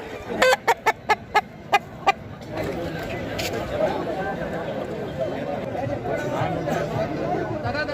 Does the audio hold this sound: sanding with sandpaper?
no